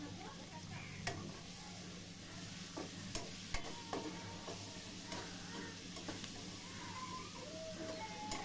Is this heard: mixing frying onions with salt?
yes